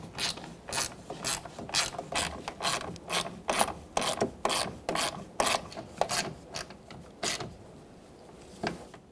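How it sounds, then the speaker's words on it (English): A socket ratchet tightens side mirror nuts on a 2000-2007 Ford Taurus, giving a close, steady series of crisp clicking strokes in regular rhythm that stop briefly near the end. "So now we can tighten these up."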